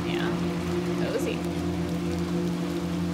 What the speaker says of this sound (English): This is a very dreary world, but the rain effect is very nice.